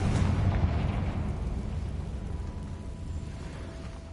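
A fire-spell explosion in the Hogwarts Legacy video game, a loud, low rumbling boom that bursts at the start and slowly rolls away over several seconds, with no talking.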